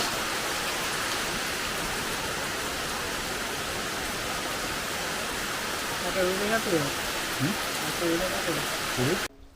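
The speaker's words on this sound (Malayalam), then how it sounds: "ഉച്ചയായപ്പോൾ അങ്ങോട്ട് തുടങ്ങിയ മഴ" Heavy afternoon monsoon rain with wind pours down in Erumeli, Kerala, in a dense, unbroken roar; near the end a voice speaks briefly beneath the downpour.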